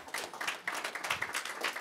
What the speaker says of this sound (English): Yes, we should clap.